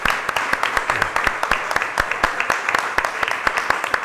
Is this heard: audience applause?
yes